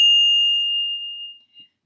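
A single handbell struck once with a four-in-hand grip, a clean bright ding that rings on as a long pure tone and slowly decays to silence, close and alone.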